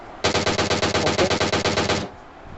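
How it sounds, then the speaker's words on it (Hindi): Rapid automatic gunfire in a battle royale video game, one loud burst of closely spaced shots lasting about two seconds before stopping abruptly. "DP का शॉट ट्राई किया गया था, but I guess shots fire हुए हैं"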